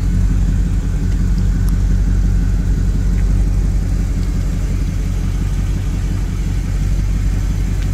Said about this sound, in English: With that big block Ford motor in there